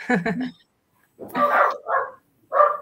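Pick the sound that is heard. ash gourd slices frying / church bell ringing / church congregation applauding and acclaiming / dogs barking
dogs barking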